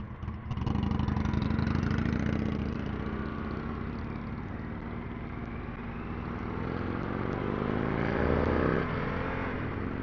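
A 2024 Harley-Davidson Sportster S engine runs nearby with a steady deep rumble, rising and falling slightly as it is revved, loud and alone with no voices.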